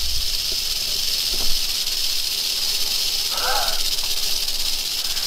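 A diamondback rattlesnake rattles in a loud, continuous buzzing hiss that holds steady without pause, with a brief muffled voice partway through.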